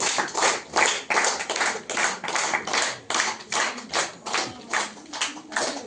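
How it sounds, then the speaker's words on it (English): An audience at a student felicitation ceremony claps in uneven bursts for about six seconds, fairly close, with no speech over it. "give a big clap for her"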